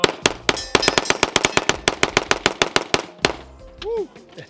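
A Beretta firearm empties a full magazine at an outdoor range day, firing about seventeen loud, sharp shots in a fast, even string, followed by a brief metallic ring and a short voice.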